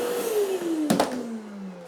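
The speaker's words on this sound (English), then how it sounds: "I got the Festool on full suction." A Festool vacuum extractor runs at full suction, drawing on a small crack during glue work, a steady close whine that shifts downward in pitch, broken by a brief sucking rattle partway through.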